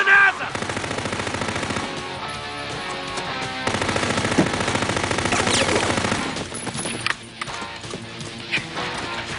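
Rapid machine gun bursts crackle through a loud action-film mix, sustained volleys layered with score and effects, then breaking into scattered shots and impacts toward the end.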